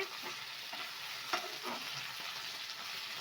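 Okra sizzles steadily in a pan of oil, a constant close frying hiss broken by soft scrapes and clicks of a utensil stirring the pieces.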